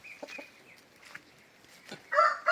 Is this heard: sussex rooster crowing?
yes